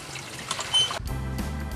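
Water poured into a small container, a short trickling splash followed by a steadier filling gurgle, close and moderately quiet with no talk.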